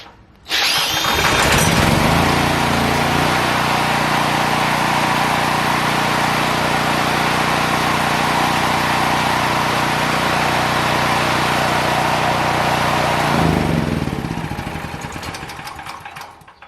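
A small generator engine fires via a cordless drill starter, jumping straight to a loud, steady close running drone that holds for about thirteen seconds before winding down and fading out.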